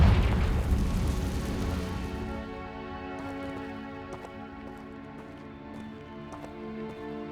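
A Confringo blasting spell goes off in the Hogwarts Legacy video game, a loud booming burst at the start that rolls into a long, ringing tonal decay with faint scattered crackles.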